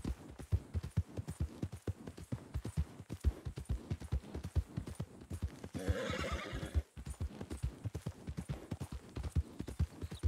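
Horses in a western role-play video game clop steadily across open ground, a rhythmic run of close hoofbeats broken midway by a loud, drawn-out neigh before the clopping resumes.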